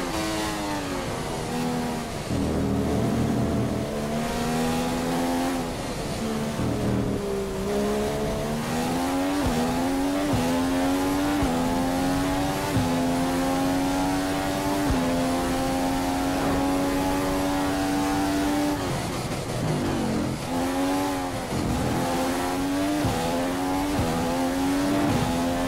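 An F1 car engine in F1 2015 screams steadily through laps at the Malaysia circuit, rising and falling with gear changes, with brief dips under braking and tire noise, loud and continuous throughout.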